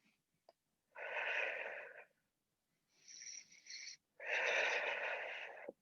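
Three forceful exhalations during a core exercise on a floor mat, breathy hissing bursts about a second or two long separated by short pauses, close and fairly loud with no talking.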